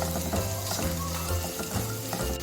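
Keema masala with turmeric frying in a pan in a home kitchen, a steady close sizzle with faint stirring scrapes that runs the whole time with no talk over it.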